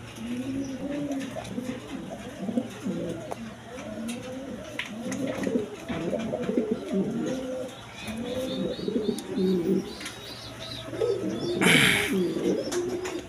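A pair of large Mondian pigeons coo in repeated low, throaty phrases close by, with faint background voices and a brief flutter near the end.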